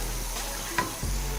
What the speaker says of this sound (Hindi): ये जो पानी रखा हुआ था ये जाएगा। अच्छी तरह से मिक्स करेंगे।